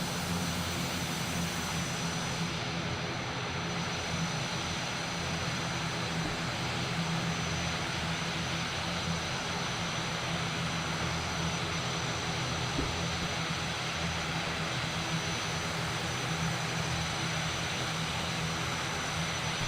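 Steady airplane engine drone from an ATR turboprop in a flight simulator game, a continuous, loud broadband hum with a constant tone running throughout, no voices.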